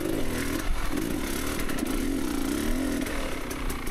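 A motorcycle fitted with an XTNG GEN3+ carburetor runs close by, its engine a loud, steady buzzing drone that wavers slightly in pitch.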